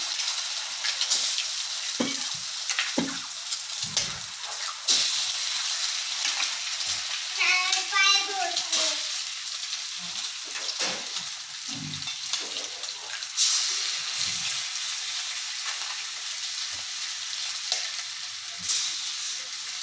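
Green chillies frying in a pan with oil, a steady broadband sizzle running throughout with occasional stirring clatter and brief soft voices in the background.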